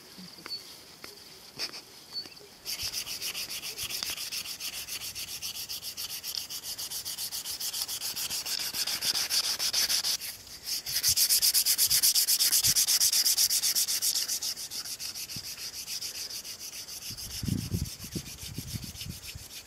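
Sandpaper rubs over a hand-carved wooden spoon to smooth away carving marks, making steady scratchy strokes close by for about seventeen seconds, with a brief pause partway through and no voices.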